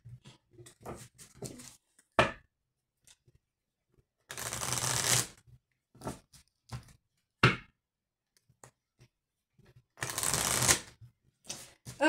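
Small tarot-style cards being shuffled by hand in several separate bursts of riffling and flicking, with bursts of dense crackle between quieter pauses and single soft taps, close and fairly quiet with no talk.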